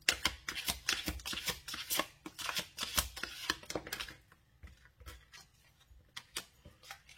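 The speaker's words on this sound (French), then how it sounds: "je vais vous tirer une carte de conseil pour vous qui avez fait ce choix" Oracle cards are shuffled in a dense, rapid flurry of close papery riffles for about four seconds, then a card is drawn amid sparser, softer flicks and slides.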